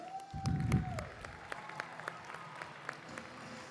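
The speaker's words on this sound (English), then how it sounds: "Clap it up for Devin." Sparse, scattered hand claps sound faintly from a small crowd at a Model UN opening ceremony, with a brief whistle-like tone at the start.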